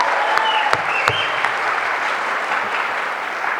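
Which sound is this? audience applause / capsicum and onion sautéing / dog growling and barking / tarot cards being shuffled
audience applause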